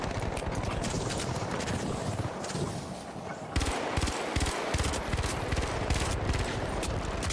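Rapid automatic gunfire in the video game The Finals rattles almost without a break, loud and dense, with brief shifts in intensity partway through.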